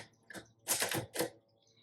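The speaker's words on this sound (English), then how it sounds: "Okay, let's do some typing. This is a 1955." A few keystrokes on a 1955 Royal Quiet Deluxe typewriter, close and crisp: a light tap followed by two sharper mechanical strikes in quick succession.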